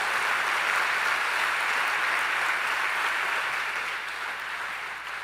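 A church conference congregation applauds in a steady, even wash of clapping that fades slightly toward the end, with no speech over it.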